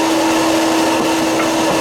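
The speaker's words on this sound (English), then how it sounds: "I'm going to try to run the vacuum here and my saw at the same time" A vacuum cleaner runs in a sawmill shop, drawing up debris while a saw cuts stakes; it makes a loud, continuous whining drone with a steady tone and no break.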